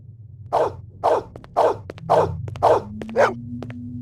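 A dog in the 1997 PC game Blade Runner barks six times at an even pace, each bark short and close, with faint clicks and a low rising hum underneath.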